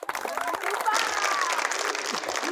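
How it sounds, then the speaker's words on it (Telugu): Studio audience clapping on a Telugu TV game show, a dense steady burst of applause lasting a couple of seconds, with voices and a whistle-like tone mixed in. "క్లాప్స్ అమ్మా"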